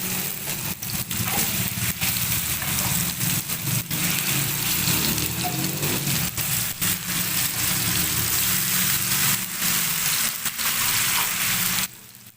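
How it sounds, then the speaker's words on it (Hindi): Chicken pieces frying in ghee for tikka give a loud, dense, continuous sizzle with crackling pops close by, running unbroken until it drops away abruptly at the very end. "दोबारा से जो हमारा चिकन रह गया उसको भी फ्राई करें।"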